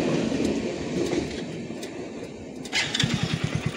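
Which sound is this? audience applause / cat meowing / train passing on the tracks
train passing on the tracks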